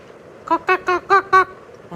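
A voice imitates a hen clucking in five short, evenly spaced bursts, loud and close, with a softer start of another at the end.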